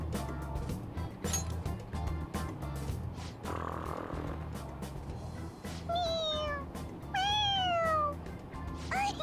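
Pressing a toy cat's head sets off two or three quick, clear meows in a row, heard up close after a stretch of low ambient rumble.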